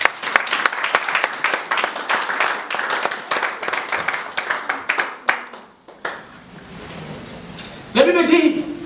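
Church congregation applauding after a sermon, a dense, loud wash of many hands clapping for about six seconds before fading, then a voice speaks near the end.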